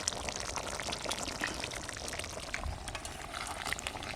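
Tangra fish curry with potato and tomato simmers and sizzles in a pan as garam masala is stirred through, giving a continuous frying crackle with scraping stir strokes, close and fairly quiet, with no talking.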